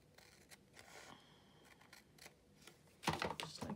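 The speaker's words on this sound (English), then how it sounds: "And then we'll just trim away" Scissors snip away excess paper while a small pocket journal is made, faint cutting sounds followed by a louder crisp rustling burst at the end.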